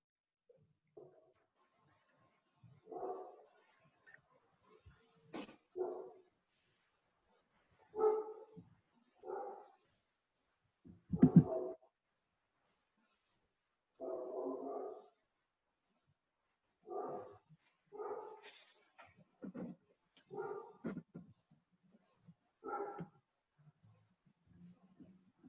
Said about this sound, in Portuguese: você tem cachorro aí na vizinhança?